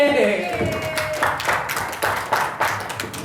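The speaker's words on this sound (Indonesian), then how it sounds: "Tepuk tangan buat kita." Audience applause in a training class: a burst of mixed, moderately loud clapping that runs throughout, with voices cheering over it.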